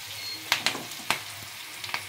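Chilli bhetki fish sizzles steadily in a pan dusted with chilli powder, with several sharp scrapes and clacks of stirring at irregular intervals over a low frying hiss.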